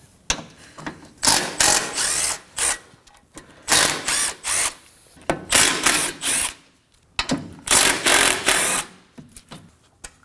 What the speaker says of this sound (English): use a 12mm socket and remove these 4 12mm bolts.